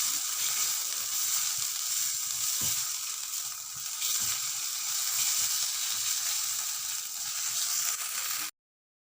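Mustard flower paste with sugar is sautéed in a pan until dry, giving a steady, close sizzle with faint stirring knocks. The sound runs unbroken, then cuts off abruptly.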